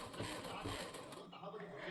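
A sewing machine with a piping attachment stitches piping onto an unlined blouse neck, a soft steady whir running under a voice.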